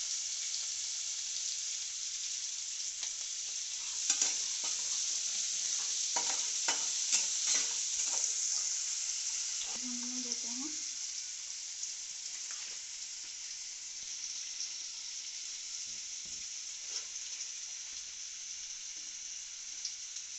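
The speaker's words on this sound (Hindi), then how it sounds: "बारीक कटा हुआ प्याज को अच्छी से भूनूंगी" Finely chopped onion frying in oil in a pan with a little salt, a steady close sizzle running throughout, with scattered scrapes and stirring taps around the middle and no voices.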